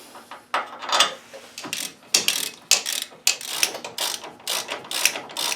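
Brake caliper bolts on a GMT800 truck being run in with a ratchet, a close, rapid series of clicking ratchet strokes in repeated bursts with short pauses between them.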